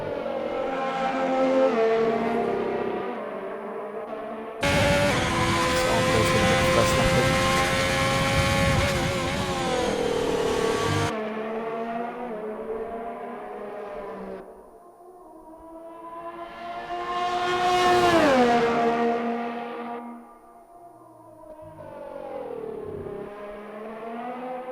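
Race cars scream past at the Bahrain Grand Prix, engines rising and falling in pitch as they approach and recede, with one very loud close pass in the middle and a sharp doppler sweep later.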